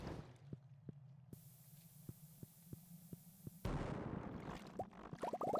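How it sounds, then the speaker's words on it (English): Bomb detonating in Stardew Valley, a sudden loud broadband blast that cuts off a steady ticking fuse-like pulse, followed by a dense rumble and scattered crackling debris pops. "I feel like here is a really good place for a bomb."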